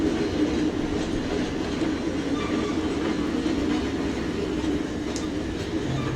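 Freight cars in a train simulator game roll steadily over a rail junction in Spokane, keeping up a continuous rumble with rhythmic clickety-clack and faint wheel squeal throughout.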